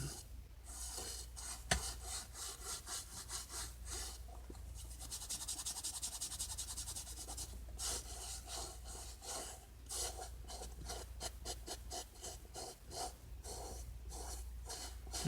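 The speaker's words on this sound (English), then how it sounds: "I'm gonna go ahead and now rub it in with a nice soft bristle brush." A soft bristle brush works polish into a shoe in quiet, close strokes, alternating between steady rubbing stretches and quick short scrubbing bursts, faint and intimate.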